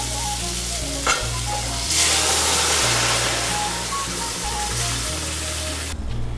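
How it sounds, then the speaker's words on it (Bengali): Boiled lentils are stirred into a spiced masala frying in a pan, giving a steady close sizzle with scraping stir strokes, and faint background music is audible throughout. "এখন এর মধ্যে দিয়ে দিচ্ছি সেদ্ধ করে রাখা ডাল।"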